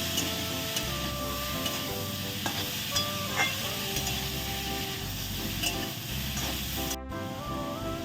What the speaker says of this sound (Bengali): রেড বেল পেপার, এগুলো দিয়ে আমি আর একটু ভালো করে সাঁতলে নেব।